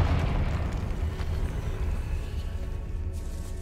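A Confringo blasting spell bursts in a decayed catacomb in Hogwarts Legacy, a loud, close, roaring explosion that hits at once and then slowly fades into a rumbling tail.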